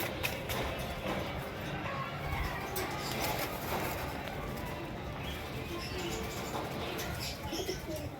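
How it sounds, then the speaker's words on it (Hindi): Pigeons, flying and breeder birds, cooing in a loft: soft repeated low coos over a steady noisy background, with faint chirps and a few wing flutters, fairly close, no clear speech. "ये देख लो कबूतर"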